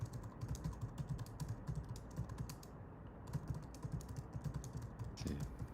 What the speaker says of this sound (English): I'm gonna type it to you